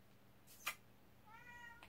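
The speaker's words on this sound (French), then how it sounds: "Quoi, le chat?" Domestic cat giving a single short, rising meow near the end, with a soft click or tap earlier; quiet room, no talk.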